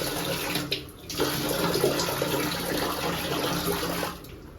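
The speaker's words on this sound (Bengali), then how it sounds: "তার আগে হাত মুখ ধুয়ে নিই" Tap water runs steadily while someone washes their hands and face at a sink, a broad continuous splashing stream with a few brief dips and changes as hands move through the flow, no talking.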